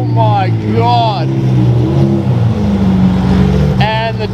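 A Lamborghini SVJ supercar with a straight-piped Ryft exhaust revs hard and close, with rising and falling engine sweeps and a raspy, loud drone between them.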